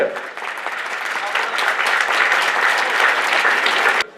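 A crowd applauds loudly at the GKS Katowice football club's squad presentation as new players are welcomed, a dense, swelling roar of clapping that cuts off abruptly at the end.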